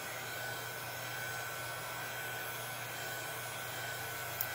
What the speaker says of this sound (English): I would most likely get your heat gun, put it on low, and fry your cup.